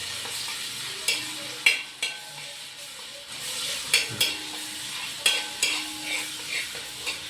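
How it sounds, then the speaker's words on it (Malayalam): Green chillies fry in a pan with crushed ginger for a Kerala-style chicken curry, a soft sizzle broken by repeated clinks and scrapes of a spoon against the pan, close by. "ഒപ്പം തന്നെ പച്ചമുളക് ഇട്ട് കൊടുക്കും."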